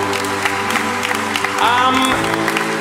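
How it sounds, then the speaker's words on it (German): Concert audience clapping for the brass players after a choir performance, a steady, dense wash of applause throughout, with a voice briefly starting to speak near the end. "Nochmal bitte einen Applaus für unsere Blechbläser."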